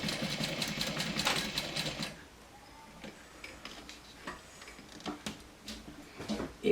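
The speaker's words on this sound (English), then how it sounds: "I haven't matched my my bobbin thread to the main thread, so that's why I'm sewing upside down." Sewing machine stitching fabric upside down on a Sew Sweetness Tower Messenger bag, a fast steady rattling hum for about two seconds, then quieter scattered ticks and clicks as it stops.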